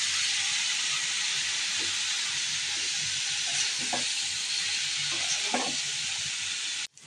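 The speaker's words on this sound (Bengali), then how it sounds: "আর এটা কচুগুলো আমি কষিয়ে নেব।" Taro pieces sizzle and fry steadily in a pan with spices, a loud continuous hiss broken by a few scraping stirs, heard close and without talk.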